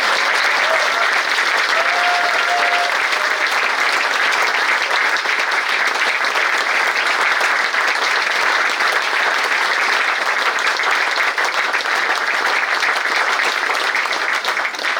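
A crowd gives sustained applause for a vocal group at an outdoor gathering at the Peršman farmstead in Železna Kapla, with dense, steady clapping that carries evenly through the full fifteen seconds.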